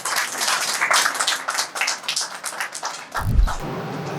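Studio audience clapping to welcome guest Ahmad Shahzad on a talk show, a steady patter of many hands that swells and then ends with a low thump.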